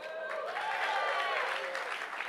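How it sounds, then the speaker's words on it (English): Applause from a conference audience, moderately loud and sustained, with cheers and whoops rising over the clapping. "Can we get a bit of a louder applause?"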